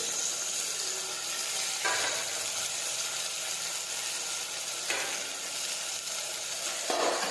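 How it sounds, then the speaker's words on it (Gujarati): Chopped tomatoes sautéing in a pan, a steady dense sizzle with a couple of brief louder bursts as they are stirred, close and continuous, no voices. "હવે આપણે સાતળી લઈશું"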